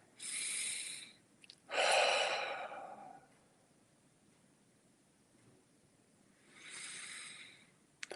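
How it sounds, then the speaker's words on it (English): Slow, deep breaths during a guided meditation: two long audible exhales close together near the start, then quiet, then one more soft breath toward the end, breathy and close with no talking. "Take 3 more deep breaths with me."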